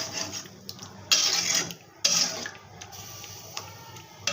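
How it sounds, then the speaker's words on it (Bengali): Water is poured into a pot of tengra fish curry with radish and potato, making two short rushing splashes over a low kitchen background. "পানিটা দিয়ে দিলাম তরকারি ঝোলটা"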